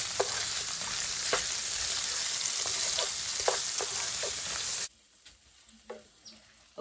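Kielbasa sausage frying in a pan for carbonara, a steady loud sizzle with small pops and occasional scrapes, the sizzle dropping sharply near the end to a quieter background.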